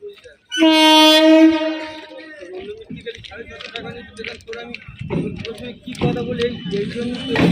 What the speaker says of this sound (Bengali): সোনারপুর লোকাল ঢুকছে